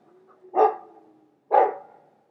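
Mabari war hound in Dragon Age 2 gives two loud, close barks about a second apart, each short and sharp with a fading tail, over a low ambient game hum.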